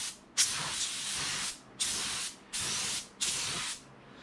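Sealer sprayed from a can ahead of painting: four hissing bursts, each lasting about a second with short pauses between, close and steady, with no talking.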